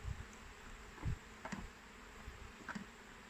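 Honeybees in an open wooden hive, a steady low buzzing hum with a few soft knocks and close wingbeat passes, no voices.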